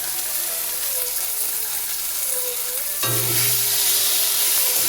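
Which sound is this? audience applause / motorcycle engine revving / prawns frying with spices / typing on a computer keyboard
prawns frying with spices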